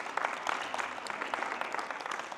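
Audience in a morning crowd at a confidence-building talk claps for their parents, a steady, moderately faint wash of many hands with no clear voices on top.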